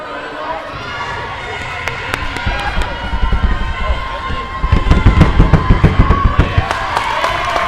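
Crowd in a gym at a girls' varsity high school basketball game, with cheering that swells and grows louder toward the end alongside sharp claps and bouncing thumps, under a commentator's voice.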